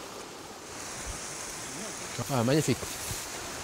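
A waterfall near Touho rushes in a steady, full roar, heard from the top of the falls on a mountain walk, while a person briefly speaks over it.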